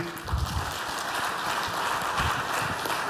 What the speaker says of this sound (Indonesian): Tepuk tangan untuk Pak Kapolri,